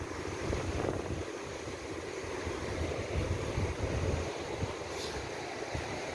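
Ocean surf washes continuously on Nai Harn Beach in Phuket, Thailand, a steady broadband rush mixed with wind buffeting the microphone, with no voices.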